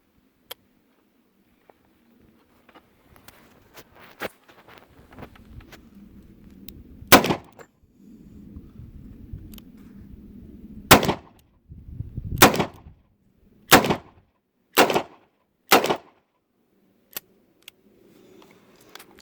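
Six sharp, loud shots from a Smith & Wesson Model 58 revolver in .41 Magnum, fired singly at uneven intervals of one to three seconds, with quiet handling noise and faint background rumble between them.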